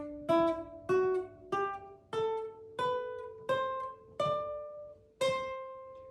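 A string instrument plays a flattened seventh as a slow series of eight plucked notes, each ringing bright and then decaying, evenly spaced and fairly quiet, with no talking.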